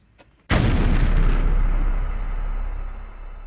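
A mail bomb blast: one sudden heavy boom after a faint tick, then a long rumbling decay that fades over a few seconds, loud and close with no voices.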